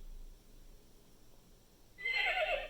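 Recorded horse whinny from a VTech Touch and Learn Activity Desk toy, a single bright neigh bursting in loudly after two seconds of near silence.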